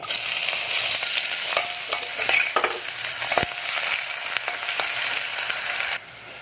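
Chopped onion tumbles into hot oil where cumin seeds are already frying. It gives a loud, steady close-up sizzle with scattered utensil clinks and scrapes, then the sizzle drops abruptly near the end.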